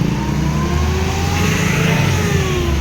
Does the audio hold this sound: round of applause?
no